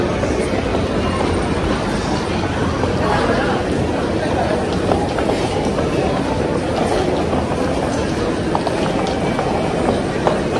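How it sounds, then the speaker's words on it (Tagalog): A Japanese bullet train running steadily close by, a continuous loud rumble and rushing roar with faint rhythmic clatter from the wheels throughout, and voices talking beneath the noise. "Bye-bye, bullet trains going to Tokyo"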